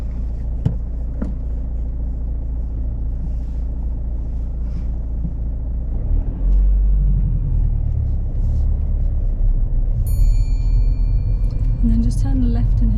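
A learner car pulls away from a high kerb during a driving lesson: a steady low engine rumble with cabin noise swells and deepens about halfway through as the car moves off.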